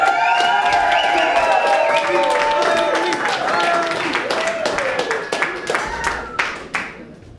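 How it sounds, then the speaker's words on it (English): Crowd applause and cheering for a presidential candidate at an Occupy rally, steady and dense before thinning into scattered claps as voices and speech-like sounds rise over it. "Please give a warm applause for presidential candidate"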